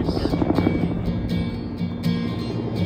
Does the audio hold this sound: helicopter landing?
yes